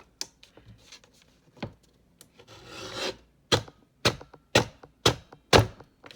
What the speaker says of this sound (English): So that's how I'm going to cut my chipboard spine.